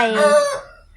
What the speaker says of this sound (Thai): ไก่ก็จะขัน